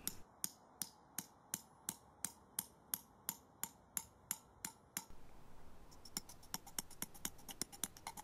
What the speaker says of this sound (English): So hammer the sleeve anchors in straight in.